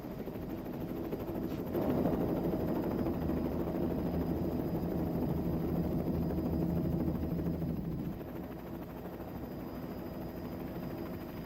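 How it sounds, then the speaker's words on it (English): A helicopter lands in a parking lot, its rotor and engine a loud steady drone that swells early, holds, then eases off toward the end, with no talking. "Is that a helicopter right here? It's landing in the parking lot."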